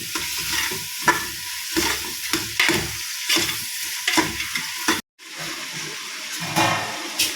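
Onions fry in a pan for ghee rice, sizzling in loud bursts while a utensil stirs them in repeated scraping strokes, with a short silent break partway through.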